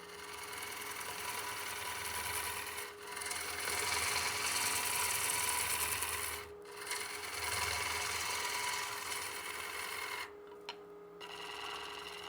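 A gouge cutting into a hardwood bowl blank spinning on a lathe, a loud continuous scraping drone under the motor hum, broken by brief pauses as the tool lifts away.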